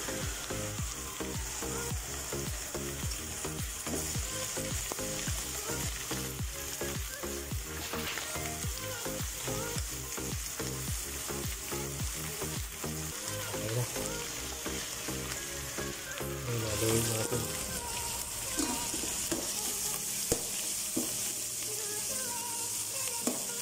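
Ground meat sizzles in a hot pan for giniling. It is a dense, steady frying hiss with faint scraping from stirring and a brief louder burst partway through, close and alone without speech.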